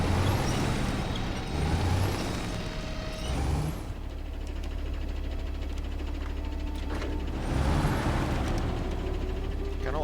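A heavy truck's handbrake in SnowRunner releases loud air-brake hisses over a constant low diesel engine rumble, with bursts near the start and again later as the idle drones on.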